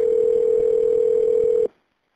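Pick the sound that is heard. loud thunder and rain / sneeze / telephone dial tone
telephone dial tone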